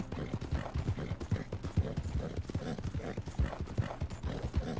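Horse hooves in Red Dead Redemption 2 clip-clopping in a quick, steady rhythm, loud and close, with faint game sounds underneath.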